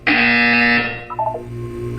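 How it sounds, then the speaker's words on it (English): A loud, harsh electronic buzzer from the video game Portal 2 blares for about a second, then cuts off, leaving a quieter tonal hum behind it. "You will hear a buzzer."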